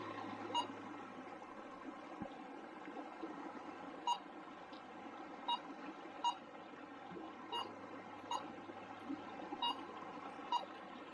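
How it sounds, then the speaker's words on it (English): A Minelab Go Find 22 metal detector gives false-signal beeps as its coil dips into stream water: short, faint, evenly spaced bleeps recur about every second over a steady watery hiss. "Seems to be every time I go and dip the coil into the water, I get an erroneous signal."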